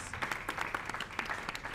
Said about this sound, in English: give a big round of applause for all the countries that took part